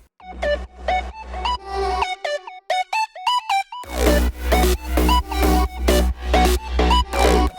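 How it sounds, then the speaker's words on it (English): Bright electronic synth chords and a plucked lead melody, partly from a Serum preset, burst in after a brief sparse break out of the build-up, driven by a thumping four-on-the-floor kick in a loud dance drop. "here's what all the synths sound like coming out of the build-up."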